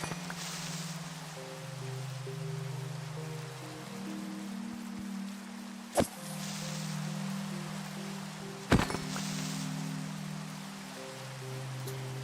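Steady Minecraft rain hisses broadly and continuously under a background of soft sustained musical tones, with a couple of sharp clicks breaking through. No one speaks.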